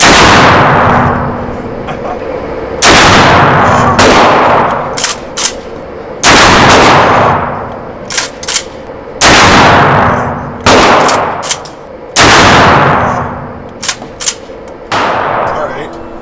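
A Kel-Tec KSG shotgun fires six loud, close blasts at a range, spaced a couple of seconds apart, each with a booming decay and faint mechanical clacks between shots.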